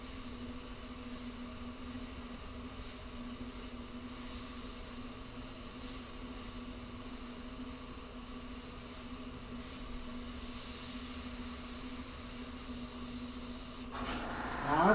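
Steady, continuous hiss of an airbrush spraying paint on a werewolf figure, a constant close sound that keeps an even level until a brief clatter at the end.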